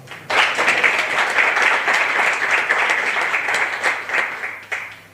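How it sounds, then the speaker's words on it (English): An audience gives Trevor a big round of applause at a celebration of sight. Dense, loud clapping starts abruptly and holds steady for several seconds, then thins and fades toward the end. "So I'd like to give Trevor a big round of applause."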